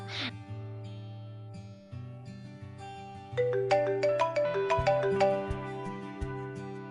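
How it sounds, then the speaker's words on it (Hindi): A phone ringtone plays a melodic electronic tune, starting softer and then a brighter run of plucked notes, clear and close with no talking. "कॉलेज के किसी दोस्त का फोन आता ही होगा।"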